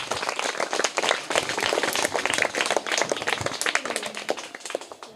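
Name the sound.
applause for prize winner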